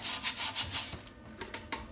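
A toilet brush scrubs grime from a toilet bowl in quick back-and-forth strokes, a close, rhythmic rasping that repeats several times per second with brief pauses between bursts.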